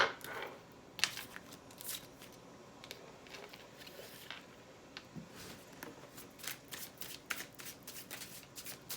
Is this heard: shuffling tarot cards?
yes